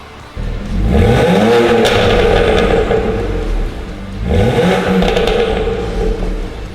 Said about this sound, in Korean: 이 차량 배기음 듣고 가실게요